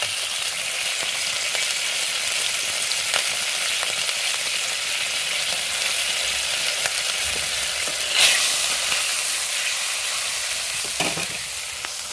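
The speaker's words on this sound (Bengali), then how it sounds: "কাঁচা লঙ্কাটা একটু হালকা হালকা ভাজা হয়েছে" Green chillies frying with turmeric in hot oil give a steady, even sizzle throughout, with a few brief stirring clinks and scrapes near the end and no talk.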